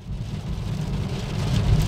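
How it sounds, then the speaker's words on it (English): Rain falls steadily outdoors, a continuous dense hiss with a low rumble that grows slightly louder; no one speaks. "it's starting off raining"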